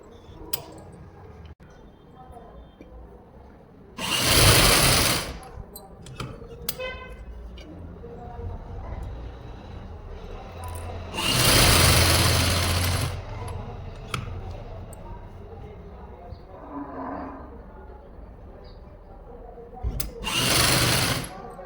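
A sewing machine stitches blouse fabric over buckram for a back neck design in three separate loud bursts of roughly a second each, with quiet handling and room noise filling the gaps.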